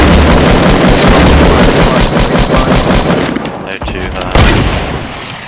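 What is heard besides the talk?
assault rifle gunfire in the video game Fortnite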